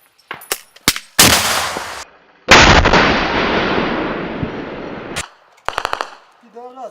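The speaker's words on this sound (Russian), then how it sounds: "Повторный выстрел из ПТУР по позициям ВСУ." An anti-tank guided missile launches with a sharp blast and a long roaring whoosh that fades over several seconds, surrounded by a few short loud bangs, in combat at Marinka.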